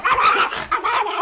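A dog attacking a woman, heard in footage, makes harsh, frantic barks and snarling yelps in quick bursts that are loud and close, with a short break midway.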